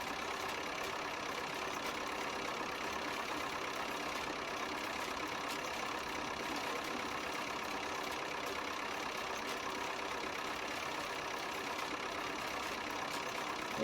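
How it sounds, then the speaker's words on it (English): A 1961 tractor engine runs steadily while drilling rye in a field, a continuous mid-low idle-like drone with fan whir, fairly faint and unbroken throughout, no voices. "With this view of the tractor, you can see the fan spinning under the bonnet"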